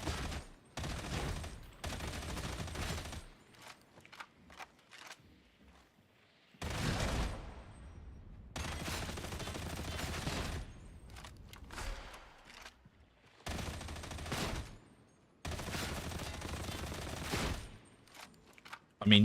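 Autogun fire in Warhammer 40k Darktide, several long sustained bursts of rapid automatic shots separated by short pauses, loud and close, with no talk over it.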